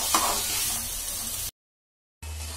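Spiced potato and cauliflower curry sizzles in a pan over a medium flame while being stirred, a steady close frying hiss that cuts out briefly and then resumes.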